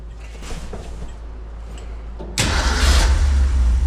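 A 1963 Ford Econoline van engine, long dormant, idles with a low steady rumble, then catches and rises sharply to a louder, rougher idle partway through, close and unaccompanied by talk.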